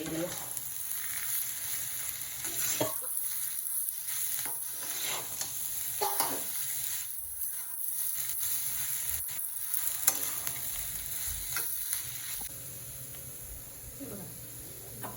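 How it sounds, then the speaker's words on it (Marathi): A spoon stirs spiced potato filling for Mumbai-style aloo bread pakoda in a kadai, steady scraping and soft sizzle running close and continuous with a few sharper clanks, no voices. "चांगलं हलवून घेऊया"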